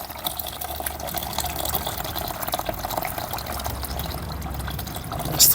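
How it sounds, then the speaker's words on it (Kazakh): Hot water poured into a container to dissolve urea fertilizer for spraying fruit trees, a steady rushing, splashing stream running continuously at close range with no talk. "Оған су құямыз."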